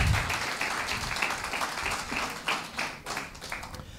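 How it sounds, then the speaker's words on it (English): Audience applause at an evening bilingual church campaign service, a steady patter of clapping that fills the clip, with some voices mixed in underneath. "Give Jesus a round of applause."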